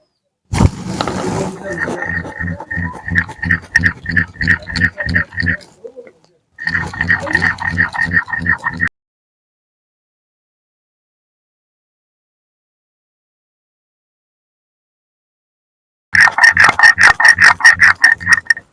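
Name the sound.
grinding mustard seeds and chillies into a paste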